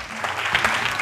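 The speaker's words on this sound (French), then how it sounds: "Est-ce qu'on peut les applaudir bien fort?" Brief burst of applause from a group of young children at a live event, a dense patter of clapping throughout, fairly loud and close.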